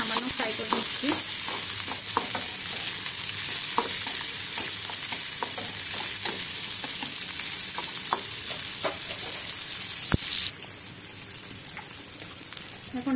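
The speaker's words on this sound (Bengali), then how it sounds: "পেঁয়াজগুলো আমি তেলে সামান্য ফ্রাই করে নিচ্ছি।" Onions frying lightly in oil in a pan, a continuous close sizzle with scattered pops and stirring scrapes, steady and loud throughout with no voices.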